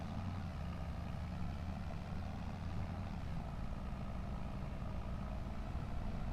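Tractor engine in Farming Simulator 25 running steadily, a continuous low idling rumble with a broad noisy hum, even and unchanging throughout, at a moderate level with no voices.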